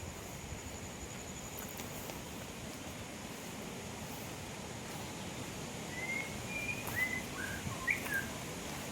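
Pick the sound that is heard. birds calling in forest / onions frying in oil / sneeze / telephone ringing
birds calling in forest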